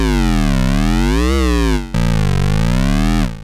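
A loud, buzzy double square waveform tone from a Behringer Neutron semi-modular analog synthesizer glides down and up in pitch, breaks off briefly, then resumes and sweeps again.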